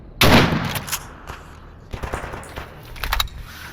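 Gunfire in Stalker Anomaly: one loud, close shot rings out sharply, followed by a scattering of fainter, more distant shots and echoing cracks spread over several seconds; no talk.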